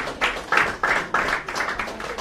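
At a Congolese Mother's Day celebration, a crowd claps in a steady rhythmic beat of about seven bursts, moderately near.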